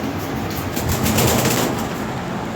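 A pair of Lahori Sherazi fancy pigeons cooing and shuffling nearby, a soft continuous murmur of birds with some faint rustling, no talking.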